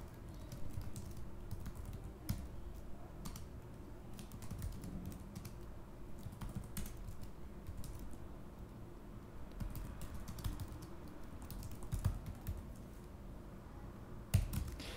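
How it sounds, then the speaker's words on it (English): Quiet, steady typing on a computer keyboard, with soft irregular key clicks and an occasional harder tap, heard close up with no voices. "just click on the image and start typing"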